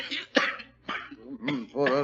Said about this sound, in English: He's got a bad cough.